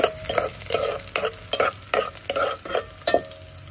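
Garlic dropped into hot cooking oil for a Filipino ginataang tambo sizzles and crackles in short repeated bursts as it is stirred, close and moderately loud, with no talking.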